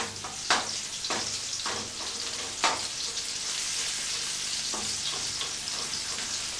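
Onions frying in a pan give a steady broadband sizzle, broken by several sharp scraping clicks as a spoon stirs them, with no voices over it.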